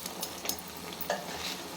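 Beetroot gravy masala fries in a pan with a soft, steady sizzle, broken by quiet scraping strokes as it is stirred, with no voices.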